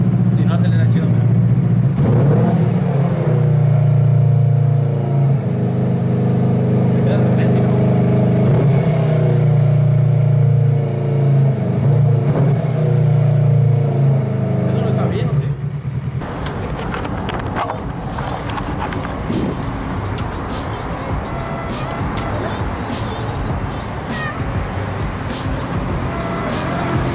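A Yamaha motorcycle engine revs and accelerates, with a steady low droning engine tone for the first half before it shifts into a rougher, broadband roar; someone talks over it.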